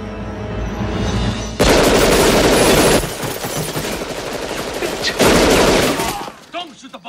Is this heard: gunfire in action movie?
yes